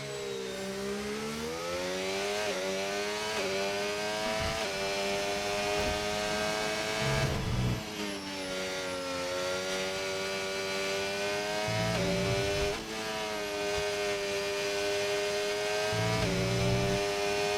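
A race car engine revs loudly and continuously, its pitch climbing and dropping through repeated gear shifts, with no talking over it, in the video game F1 25.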